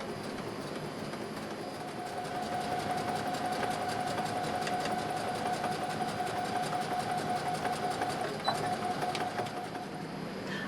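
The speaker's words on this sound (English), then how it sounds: "I'm going to straight stitch right along that line, starting in needle down position." Sewing machine sews a slow, steady straight stitch along a marked line while a dress is made, giving a continuous rhythmic whirring clatter at close range with a faint whine throughout.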